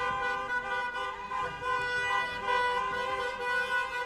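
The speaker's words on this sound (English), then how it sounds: "You may not be able to hear me over the car noise here" Dense city gridlock traffic noise in Leicester, with steady car engine rumble and horn-like tonal toots running throughout, fairly loud and continuous.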